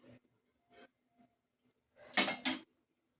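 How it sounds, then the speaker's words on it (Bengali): A spatula scrapes around a wok to spread oil before frying fish, giving a few faint, brief scrapes and then two louder, close metallic strokes near the end, with quiet gaps between and no voices. "কড়ার চতুর্দিকে তেলটাকে একটু নেড়ে নেব, যাতে মাছগুলো লেগে না যায়"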